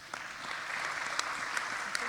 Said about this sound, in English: we do a lot of clapping in treatment court